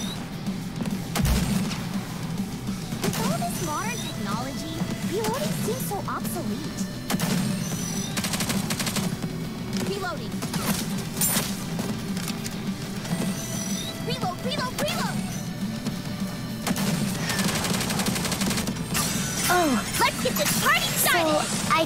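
Rapid gunfire crackles through a battle in the video game Goddess of Victory: Nikke, with bursts of shots over a steady bed of game sound and music, while character voices speak now and then.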